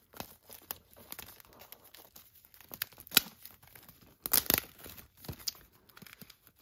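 Plastic wrapping is torn off a limited edition 4K Blu-ray up close, in sharp irregular rips and rustles with brief pauses between.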